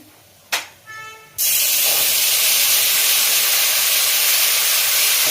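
Turmeric and spices dropped into hot oil for a wedding-style doi katla fish curry, giving a sudden loud, steady sizzling hiss that starts after a couple of brief clatters and continues unbroken.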